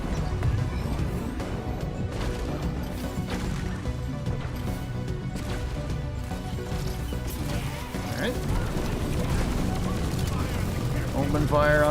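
Gunfire in the sci-fi shooter Deep Rock Galactic during a fight with a boss creature: dense, continuous rattling volleys of shots pile over one another with clattering impacts and a busy background of game noise.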